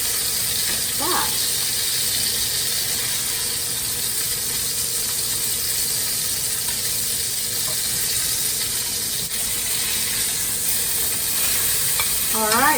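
Cube steak sizzles steadily in hot fat as it goes into a Dutch oven, a dense broadband crackle and hiss running close and loud throughout, with brief voice-like tones near the start and end.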